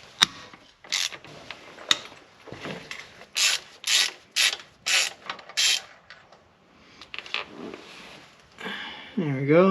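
Ratchet loosening 13 mm starter bolts on a Firebird, heard as a series of close, rhythmic clicking bursts among rubbing and clanking, with a voice briefly at the end.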